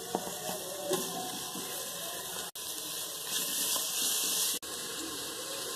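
Chopped onions and green chilies sizzle in a hot pan, a steady broadband frying hiss that runs close and fairly loud through the whole stretch, cut by two brief drops.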